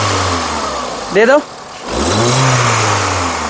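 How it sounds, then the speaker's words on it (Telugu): A 2011/12 Volkswagen Vento Highline engine idles nearby, then is revved so its pitch climbs and holds steady, loud and close, with someone speaking briefly between the idle and the rev. "రేస్ దేదో ఎక్ బార్"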